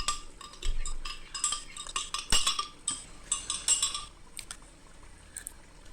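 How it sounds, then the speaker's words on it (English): Spice paste for Assam pedas being stir-fried in a cup of oil, with a utensil scraping and clinking against the pan in quick irregular strokes over a soft low sizzle, close and fairly quiet, no talk. "Then we need to stir fry it for a total of 15 minutes."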